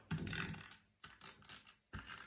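A tape runner pressed along paper edges, three close, quiet bursts of rolling, clicking adhesive tape in quick succession.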